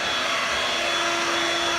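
A Dirt Devil Vibe corded bagless stick vacuum runs with a steady, loud whirring whine close up, unbroken and with no talk over it.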